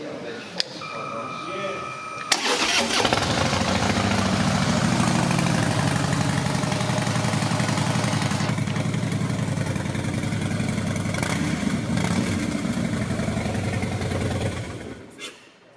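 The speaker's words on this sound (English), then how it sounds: "the exhaust is very impressive. This is what it sounds like" A motorcycle engine rumbles steadily at idle, loud and close, with a few blips of revving toward the end before it cuts off.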